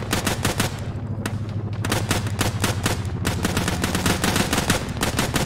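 Dense gunfire in the military game Arma, rapid automatic bursts cracking loud and close in a near-continuous rhythm with brief gaps, no voices over it.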